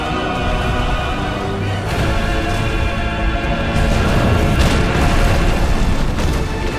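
A sustained, loud rumbling blast from Ifrit's charged brimstone attack in a Final Fantasy game, with booming explosive bursts layered over a dense, continuous roar for several seconds, no voices.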